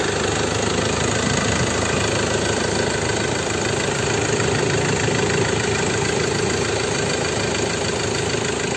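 A 2014 Ford Ranger XLT pickup's 2.2 litre diesel engine idles steadily up close, a constant even rumble with a faint rhythmic knock and no voices.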